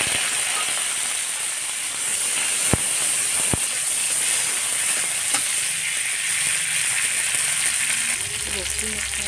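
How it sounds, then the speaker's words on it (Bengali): Chopped onion and chili frying in hot oil in a kadai, a steady loud sizzle that continues through the whole stretch with a couple of sharp pops. "সেখানে এখন আমি তেল গরম হয়ে গেছে, পেঁয়াজ কুচি আর লঙ্কা কাটা দিই।"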